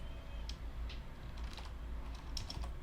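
Typing on a computer keyboard while entering a spreadsheet file name, a quick run of light clicks and taps over a low steady room hum, close and fairly quiet.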